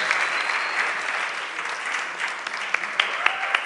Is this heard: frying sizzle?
no